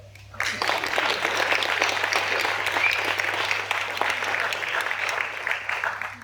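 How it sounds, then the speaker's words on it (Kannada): Audience applause after a Kannada stage play, a dense, steady wash of many hands clapping that starts abruptly and carries on evenly without voices. "ಚಪ್ಪಾಳೆ ತಟ್ಟಿದ್ರೆ"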